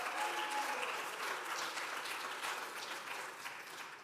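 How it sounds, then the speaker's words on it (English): A church congregation at a worship service applauds in a steady, even wash of clapping that fades slightly toward the end, heard from some distance. "can I get a round of applause?"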